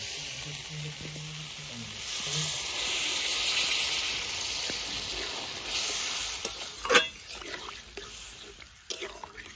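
Water goes into a sizzling, well-fried curry in a pan, bringing a broad hiss and steamy sizzle with clinks and scraping toward the end and a low background hum.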